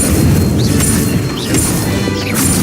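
Incendio fire spell cast in Hogwarts Legacy, a loud, dense crashing burst with whooshing flame tones that fills the whole moment, with no voices over it.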